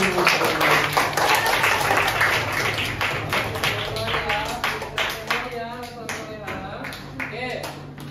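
Classroom students applaud a group, sharp close handclaps at first that thin out into scattered clapping, with children's voices and chatter rising underneath toward the end.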